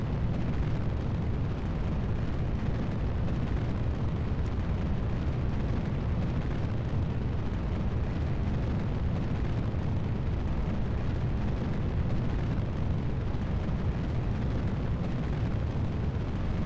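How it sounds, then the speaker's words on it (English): The Arcus 2 medium launch vehicle lifts off in Kerbal Space Program, a continuous loud, low rocket roar that rumbles evenly without pause for the whole stretch, with no voices over it. "Liftoff of the Arcus 2 medium launch vehicle carrying a new power core and a new space forklift to the station"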